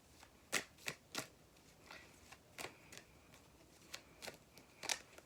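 Tarot cards shuffled by hand, a run of quick crisp riffling bursts and soft slaps at close range, irregularly spaced, with no talking.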